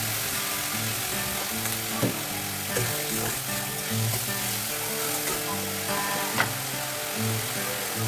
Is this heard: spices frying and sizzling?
yes